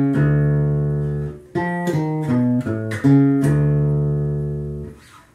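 Bass guitar playing a metal riff built on the whole tone scale, a long sustained low note followed by a quick run of plucked stepping notes, then another long held note, played alone and clean.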